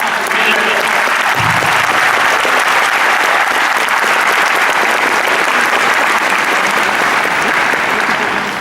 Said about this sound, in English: please clap. No, really, clap.